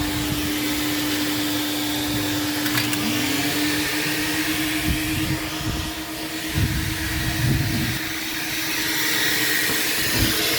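A car wash vacuum cleaner runs steadily and loudly for the whole stretch, a constant roaring whine with a sustained hum and some bumps of handling noise.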